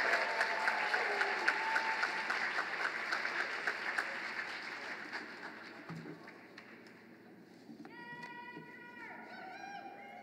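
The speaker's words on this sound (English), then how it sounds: "let's give a round of applause for the Language Arts Department, Ms. Glassman, Ms. Riley, and Ms. Scheller." Sustained audience applause at a high school department awards ceremony, dense and steady, fading slightly before a few high electronic tones sound near the end.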